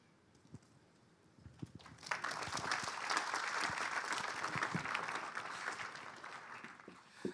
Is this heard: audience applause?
yes